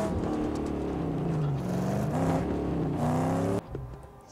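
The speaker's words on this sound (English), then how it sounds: "But I also like the sound of that car." A car engine in the Mad Max video game revs hard and steady, its pitch climbing and dipping through gear shifts, loud and close, then cuts off abruptly near the end leaving a faint rumble.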